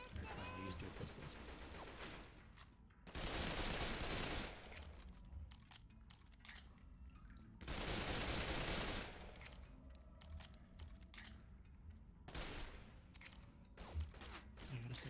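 Rapid gunfire from dual pistols in the video game Left 4 Dead 2 rattles in dense bursts over a loud, busy game soundscape, with two heavier stretches of continuous shooting.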